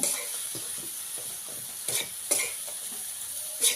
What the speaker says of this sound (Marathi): आपण याच्यामध्ये चांगला गूळ वितळून देऊया आणि मंदाशेवरच आपण परतून घेऊया